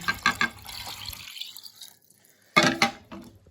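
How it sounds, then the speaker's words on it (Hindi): Milk is poured back into the same pot, giving a splashing, pouring sound in two bursts separated by a quiet pause, close and fairly loud. "दूध को हम वापस उसी बर्तन में डालेंगे।"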